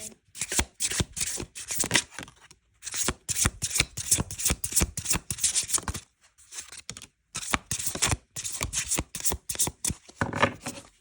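Tarot cards are shuffled in repeated riffling bursts with short pauses between them, crisp and close by, with no talking.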